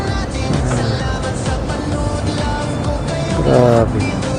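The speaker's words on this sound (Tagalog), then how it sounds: "Traffic na." Steady road traffic with cars passing nearby, a continuous engine and tyre rumble that swells toward the end, with voices talking over it.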